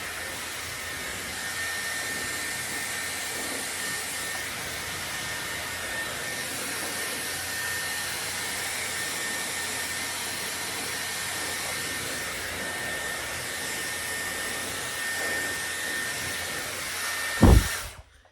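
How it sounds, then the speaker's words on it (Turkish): A Dyson hair styler with its drying attachment blows air through hair in one loud, steady, close whooshing hiss that runs unbroken for the whole stretch, then ends in a sharp click as it cuts off. "Şimdi bununla kurutuyorum. Adı bu kurutma aparatıymış."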